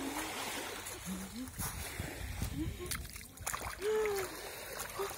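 Feet wading through warm, shallow, clear sea water in the early morning, with soft intermittent splashes and sloshing at close range while someone talks and hums over it.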